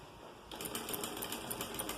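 Sewing machine finishing a seam on a fitted sleeveless blouse, starting abruptly after a quiet moment and then running in a steady, fast mechanical patter up close.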